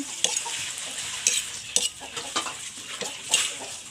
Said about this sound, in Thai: เอากุ้งไปคั่วนะคะ เราใส่กระทะคั่วเลยค่ะ